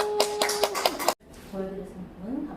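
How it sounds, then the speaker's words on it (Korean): A brief burst of hand clapping from a small audience at a local agricultural-centre creator training session in Hadong, with a voice calling out over it, then cutting off abruptly into quiet talk. "와 박수!"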